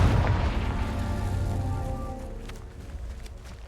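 A Confringo blasting spell from the video game Hogwarts Legacy detonates in a loud, close boom with a rumbling low tail that fades over a few seconds.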